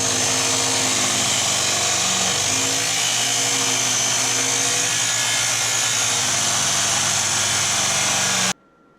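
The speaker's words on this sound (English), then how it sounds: "So now we just got to cut this piece at an angle for the back of the plow." Power saw cutting a steel piece at an angle for the back of a quad snow plow, a loud continuous grinding whine held steadily for about eight seconds before stopping abruptly.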